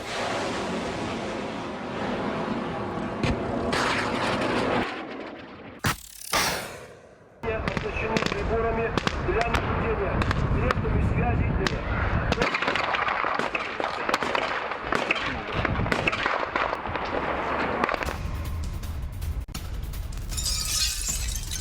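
Explosions and rocket launcher barrages from a Russia–Belarus Zapad military drill, heavy booming blasts and crackling debris in dense bursts, with a brief near-silent gap and a voice talking over much of it.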